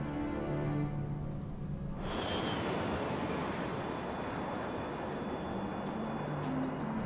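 A Qantas Airbus A380 jet airliner takes off, its engines building into a loud, steady broadband roar that swells suddenly and holds throughout, with no voices.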